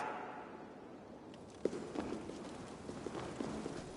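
Faint, soft horse hoof clip-clops in Assassin's Creed Valhalla walk at a steady slow pace, quiet and somewhat distant over a low ambient hum.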